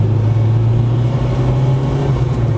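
A Honda Integra DC5 Type R engine revs steadily and loudly with a strong low drone, heard close up from a car on the road with no talk.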